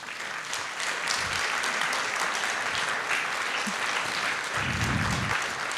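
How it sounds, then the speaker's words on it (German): Audience applause after an expert health talk, a steady wash of clapping at moderate distance that carries evenly to the end. "vielleicht mit einem kräftigen Applaus."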